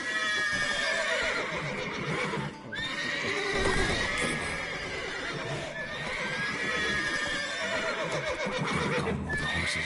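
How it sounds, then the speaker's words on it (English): Several horses in The Witcher 3 video game neigh and whinny repeatedly, loud and close, over a busy background of shuffling hooves and ambient noise. "Calm all the horses before you wake the guards."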